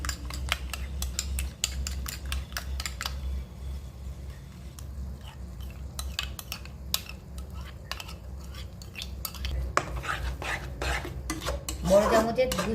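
Two big spoonfuls of sour yogurt with a little garam masala are beaten in a bowl for a spinach paneer dish, giving steady close scraping and clinking of spoon against bowl in quick, uneven strokes over a low hum, with a louder burst near the end.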